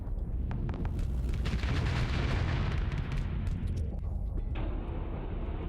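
Heavy mortars firing in the space combat game Starsector, a dense, continuous barrage of loud booming blasts and bursts layered over a deep rumble, with no talking.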